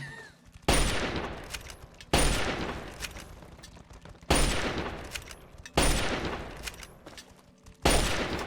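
Gunfire in Fallout 3, five sharp loud shots at irregular intervals, each with a long decaying echo tail, no talking.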